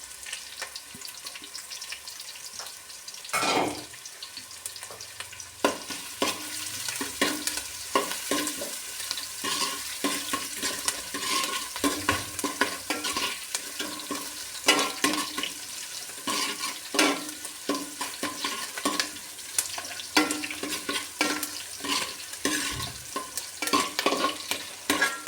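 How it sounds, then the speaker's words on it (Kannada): Chilli, garlic and ginger fry in hot oil for a Coorg-style fish curry, with a steady close sizzle and repeated scraping stirs of a spatula against the pan, no voices over it. "ಇದು ಸ್ವಲ್ಪ ಹಾಗೆ ಬೇಯಕ್ಕೆ ಬಿಡಿ, ಕಂದು ಬಣ್ಣಕ್ಕೆ ಬರಲಿ."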